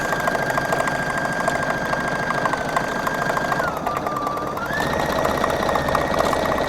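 A Husqvarna Viking embroidery machine runs steadily with a felting set, pushing white threads from the back of denim through to the front, giving a fast, continuous mechanical chatter with a pitch dip partway through.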